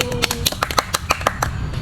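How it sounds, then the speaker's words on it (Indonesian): A small group in a group-intervention session gives a short burst of uneven hand claps, close by and fairly light, lasting under two seconds. "tepuk tangan dulu untuk Egi."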